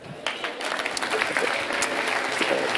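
A church congregation applauds during a worship service: dense, steady applause with some cheering that swells slightly and holds for the whole stretch, heard from within the room.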